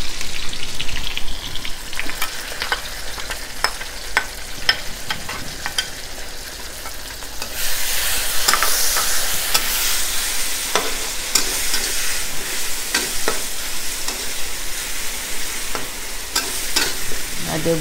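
Chili paste and blended spices for a simple beef curry sizzle steadily in a pan, with repeated scraping stirs throughout; the frying grows brighter and louder about halfway through, with no talking.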